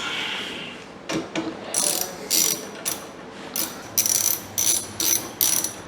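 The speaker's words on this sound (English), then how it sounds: "So, I have a more civilized wrench." A ratchet wrench clicks in quick bursts of rapid ratcheting strokes, loud and close, with short pauses between turns while working on a battery connection during an abandoned airport restoration.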